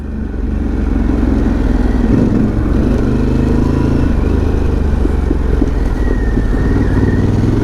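Harley-Davidson Pan America adventure motorcycle engine pulling hard to high RPM, a loud, steady, close-up drone with continuous engine roar and rumble throughout, no voices.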